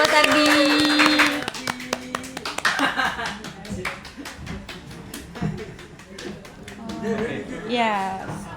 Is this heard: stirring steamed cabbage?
no